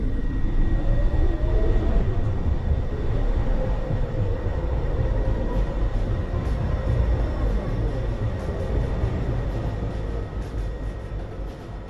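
A subway train rumbles steadily at Rector Street station, a low continuous roar with a faint high whine, close and fairly loud, with no talk.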